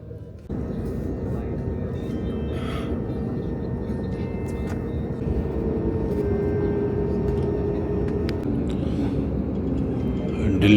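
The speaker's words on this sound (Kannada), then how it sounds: "ಡೆಲ್ಲಿ ಟೇಕ್ ಆಫ್ ಆಗ್ತಾ ಇದೆ" Airplane taking off from Delhi, heard as a steady, broad roar that swells slightly over time, with cabin clicks and faint talk over it.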